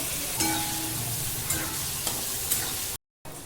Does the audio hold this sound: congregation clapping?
no